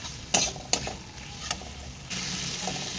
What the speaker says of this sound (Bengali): দিয়ে ভালো করে কষিয়ে নেব মশলার সঙ্গে।